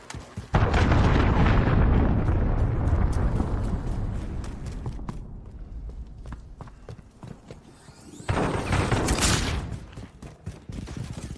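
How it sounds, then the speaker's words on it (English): A cruise missile strike in Call of Duty Modern Warfare: a loud, rolling explosion that slowly fades into crackling aftershocks, followed by a second blast burst. "Enemy cruise missile incoming!"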